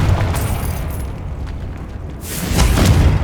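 Confringo fire spell from Hogwarts Legacy bursting in a sustained booming roar, dipping briefly then swelling again into a loud, dense explosion near the end.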